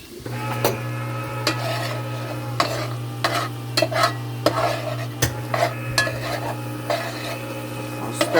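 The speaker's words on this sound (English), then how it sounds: "I'll stir these onions." Onions frying in a pot, stirred with repeated scraping and clinking strokes over a steady sizzle and a constant low hum, close and fairly loud, no speech.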